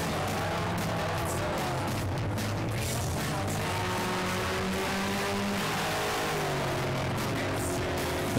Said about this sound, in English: You see our car just waiting for pulling away.